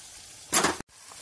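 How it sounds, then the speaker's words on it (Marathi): Homemade ayurvedic hair oil with curry leaves, onion and fenugreek boils in a pan. It gives a brief, close burst of sizzling and crackling that cuts off sharply, with quiet bubbling afterward. "कशा पद्धतीने ते तेल उकळत आहे"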